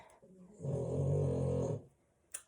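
A single long, low snore from a dog, rumbling and close, followed by a short snuffle at the end.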